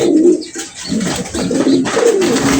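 Domestic pigeons coo close by in a loft, several low, throaty rolling calls overlapping in a steady run, some of the birds noted as nose-cut.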